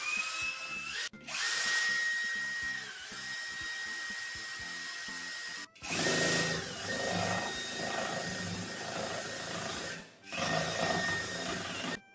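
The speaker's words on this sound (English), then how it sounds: "I had to really hold the wood firmly in place and drill as hard as I could into there until I got it in" A power drill boring into wood while an arcade machine cabinet is assembled, running in long sustained whines near and loud, with brief stops and restarts between bursts and a steady strained motor tone.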